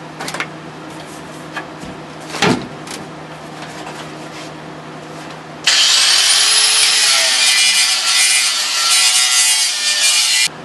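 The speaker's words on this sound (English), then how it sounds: "I'm going to sand this off" A power sander grinds metal off a car floor pan support during a Plymouth Duster restoration, starting after a few handling clunks and running loud and steady with a harsh, high whine until the end.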